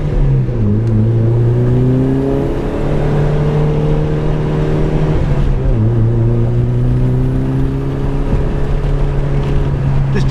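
A 2006 Mitsubishi Evo9 MR engine heard from inside the car on a track, droning loudly through repeated gear changes as the pitch climbs and drops, with steady road and wind roar underneath.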